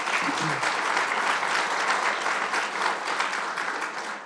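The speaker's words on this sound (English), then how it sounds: "Let's give him a big round of applause." An audience applauds the DA-elect at a public announcement: dense, sustained clapping from a large crowd, loud and continuous throughout with no pauses.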